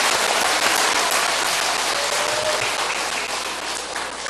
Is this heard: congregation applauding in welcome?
yes